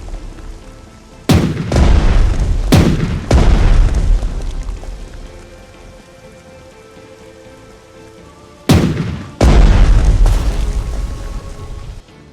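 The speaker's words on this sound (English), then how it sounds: "It's far past time that we make use of our armor-piercing shells to focus the Colorado's firepower on the Japanese" Naval gunfire from the battleship Colorado firing armor-piercing shells in the strategy game Strategic Mind: The Pacific, heavy booming salvos in two close pairs, each blast loud and followed by a rumbling tail.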